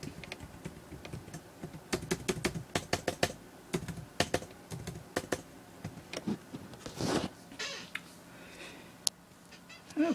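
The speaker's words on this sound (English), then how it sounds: "Let me go ahead and input my password, and I will continue." Fingers type a password on the keyboard of an HP Pavilion dm1z (3115m) laptop, sounding as close, quick clusters of light key clicks with short pauses between them, over a faint background hum and without any talking.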